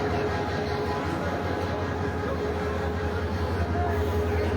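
The Dolonchapa Express passenger train runs along the line at Parbatipur, giving a continuous, even rumble with a steady droning hum, close and fairly loud throughout.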